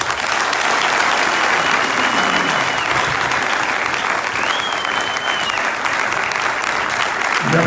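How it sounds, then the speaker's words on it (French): A conference audience in Kisangani applauds continuously, a dense, loud wash of many hands clapping that holds steady from start to finish. "Quand il va prendre la parole, on voudrait bien entendre vos applaudissements."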